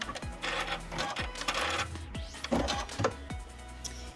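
Sewing machine stitching a diagonal seam corner to corner to join quilt binding strips, its motor whirring in several close, steady bursts with brief pauses and small clicks between runs.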